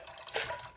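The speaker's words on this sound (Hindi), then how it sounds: "ये तो इसका ये पानी हम निकाल देंगे जो मिक्स फ्रूट है।" Liquid from canned mixed fruit drained off into a container, a short splashy trickle of pouring liquid heard up close without any talking.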